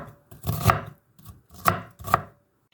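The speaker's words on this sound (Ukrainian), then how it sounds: "наріжу цибулю, підготую для засмажки. Цибулю буду різати так миленько." A knife chopping onion on a board, three close, distinct cuts with short pauses between them, with no talking.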